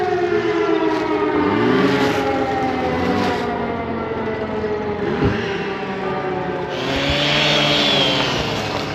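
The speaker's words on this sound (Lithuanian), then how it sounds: "Sirenos įsijungia, ką tai reiškia?" Civil defense sirens at Cochem's Reichsburg castle drone loudly and steadily, with slow rising and falling sweeps layered over one another, plus a brief thump midway and a hiss of noise near the end.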